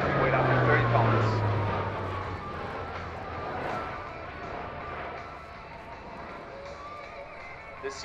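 Alenia C-27J Spartan twin-turboprop transport flying an aerobatic display at an airshow, a broad steady engine roar loudest early and easing slightly, with a commentator talking over it throughout.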